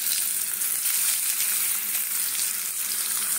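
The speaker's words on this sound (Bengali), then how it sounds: "আমি সেদ্ধ করে রেখেছি, তাও অল্প একটু ভেজে নিচ্ছি" Boiled broccoli and potatoes frying in a pan, a steady, bright hiss of sizzling oil that holds evenly throughout with no voices.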